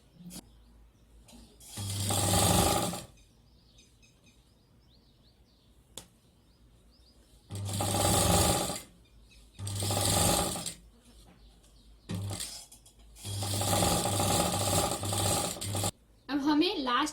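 A sewing machine stitching over folded fabric: several loud, close bursts of rapid whirring stitching, separated by quiet pauses with a few clicks, the last stretch longer and broken into quick pulses.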